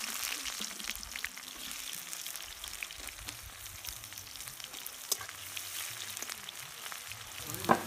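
Chopped onion frying in oil with cumin and bay leaves for a duck curry gives a soft, steady sizzle, fairly quiet, broken by occasional light clinks and stirring scrapes.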